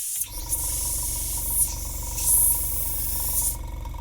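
Chaos Black primer spray can hissing steadily and close for several seconds, with brief louder bursts of spray, over a constant low background hum.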